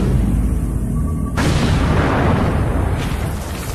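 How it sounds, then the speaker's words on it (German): A blast of ammonium nitrate mixed with heavy oil going off: a sudden loud boom breaks in after steady rumbling noise, followed by a long roaring, crackling wash of debris. "Wenn wir es zünden, explodiert das Gemisch und verursacht einen riesigen Krater."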